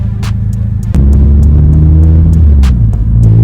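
A Citroën C4 VTR engine rumbles loudly and close, then revs up into a steady, deeper throbbing drone after a brief pause, with no talking over it.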